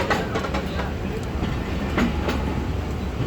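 The Fareed Express train rolls out of Hyderabad Junction, its carriages rumbling steadily with rhythmic clickety-clack from the wheels, heard close from inside, with faint talk in the background.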